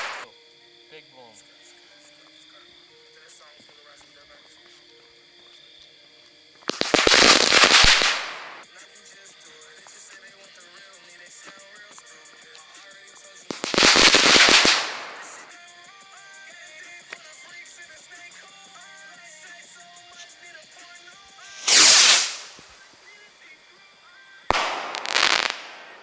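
Fireworks and firecrackers go off in four separate loud bursts spaced several seconds apart, each a crackling, hissing explosion over a quiet background with faint voices between them.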